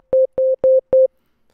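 Raw, unprocessed synth pluck patch in FL Studio playing four identical short, clean tonal notes in an even rhythm, each with a brief plucky tail, followed by silence.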